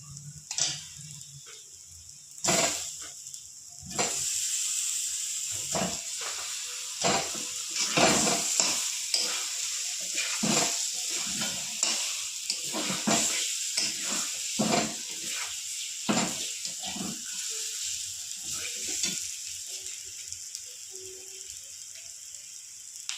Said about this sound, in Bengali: এবারে এই কষলা মশলার সাথে আমি ডিমের আলুগুলো কষিয়ে নেবো